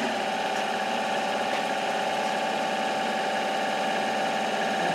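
A Tormach 8L lathe with a roller bearing assembly holding a long bar, its spindle spinning at 1,000 RPM and giving a steady, even mechanical whine and hum with no talk.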